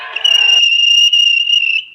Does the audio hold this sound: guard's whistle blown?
yes